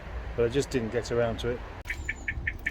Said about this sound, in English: That's the sound of an alarm trying to activate